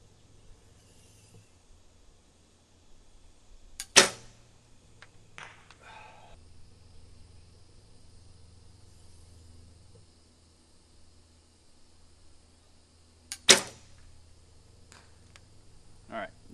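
Two sharp, loud arrow releases from a bow whose grip is working loose, spaced about nine seconds apart, each a crisp snap that rings briefly, with faint clatter between shots and a low steady hum underneath.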